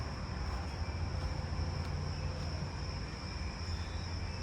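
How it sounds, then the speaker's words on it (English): A jumping bush cricket chirps continuously, a steady high-pitched insect buzz over a dense, loud background of other insects and low rumble, with no pauses and no talking. "I'm hearing the jumping bush cricket again."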